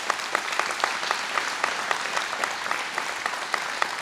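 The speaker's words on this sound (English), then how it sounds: "So let's give a round of applause for that." Audience applause at an outdoor groundbreaking ceremony, moderately distant and even, with a few individual sharp claps popping out above the steady patter.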